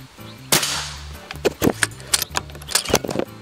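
A sharp crack of a shot from a Bocap Black Ant Tactical folding PCP air rifle rings out, followed by several smaller clicks and clattering handling sounds nearby.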